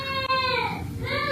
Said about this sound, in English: If you guys can hear my daughter, she's upstairs with my husband being cranky.